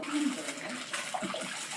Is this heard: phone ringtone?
no